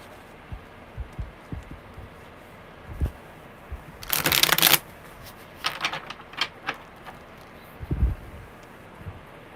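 Tarot cards being shuffled by hand, giving soft papery riffles and taps with a louder burst of flicking in the middle, close up and with no talking.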